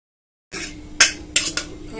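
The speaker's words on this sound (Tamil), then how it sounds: "இப்போ அதை க்யூப்ஸ் மாதிரி கட் பண்ணிக்கலாம்" Coconut-water china grass jelly being cut into cubes with a knife, several sharp clicks of the blade striking a plate or board at an uneven rhythm, close and fairly loud, with no talk.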